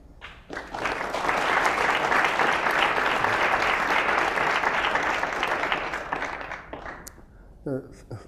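Audience applause welcoming three guests to a panel discussion on Trump, Mexico and Latin America, rising quickly into sustained, dense clapping for about six seconds before tapering off as a voice begins.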